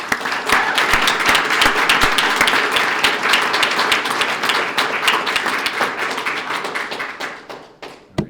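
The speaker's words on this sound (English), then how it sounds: "Let's give another round of applause." An audience at a police swearing-in ceremony applauds new officers with sustained, dense clapping, plus a few louder individual claps, tapering off at the end.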